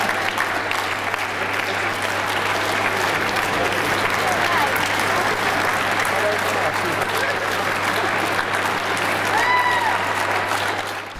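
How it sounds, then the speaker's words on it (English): A large crowd inside a building claps together in time, a dense, continuous wash of applause filling the space from start to finish over a low steady hum. "inviting everybody in the building to clap in time with each other"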